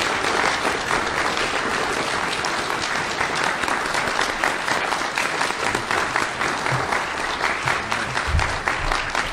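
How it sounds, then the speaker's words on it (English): Sustained applause from a crowd at an Eagle Scout Court of Honor, dense steady clapping that continues throughout at an even, fairly loud level. "And round of applause for Chris."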